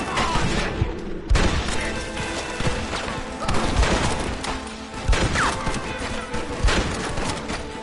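Sustained gunfight in Red Dead Redemption, with dense, overlapping gunshots that crack repeatedly through the whole stretch, several sharp louder reports standing out above a constant rattle of battle noise.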